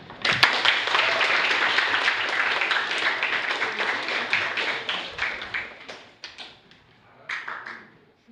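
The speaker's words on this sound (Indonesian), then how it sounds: "Mari kita tepuk tangan." Classroom students in Denpasar give a round of applause: dense, close hand clapping that holds steady, then thins out into scattered individual claps before a last short burst.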